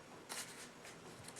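A stack of paper get-well cards rustles softly and briefly as it is handled, a faint, close, papery shuffling with small flicks.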